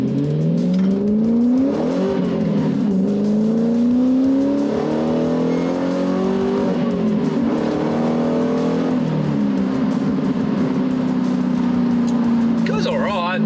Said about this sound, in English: It's already got a catback on it, so the sound is good